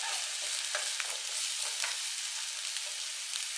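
Food sizzling and frying in a hot pan at a lunch stop outdoors, a steady dense hiss with small crackles throughout, fairly close and even in level.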